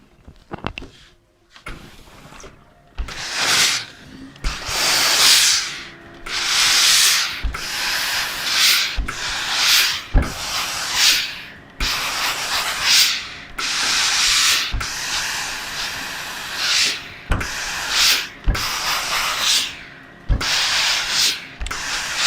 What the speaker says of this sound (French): je tire en bas et en même temps, je repasse avec la vapeur